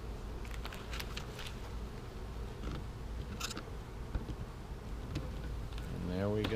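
Honey bees buzz at an open hive as a honey super is added, a faint, thin drone close by with scattered taps and handling noises and some talk.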